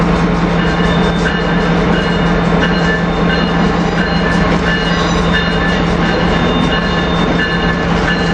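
A SEPTA regional rail train hauling a Maryland coach set rolls past at 30th Street station, a loud, close, continuous rumble with rhythmic clickety-clack of wheels over rail joints.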